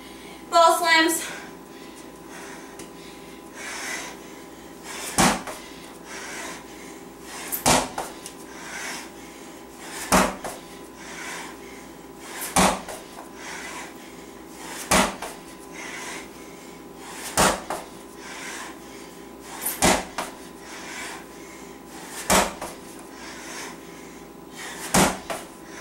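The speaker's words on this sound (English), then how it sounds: "And ball slams." Medicine ball slams in a HIIT workout land as sharp thuds roughly every two and a half seconds, a steady rhythm under continuous background music or noise.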